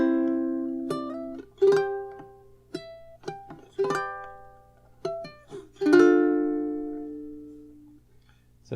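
Plucked ukulele notes ring out in fingerstyle for bar 3 of a song, single clear tones and small chord strums spaced unevenly and left to decay, no voices.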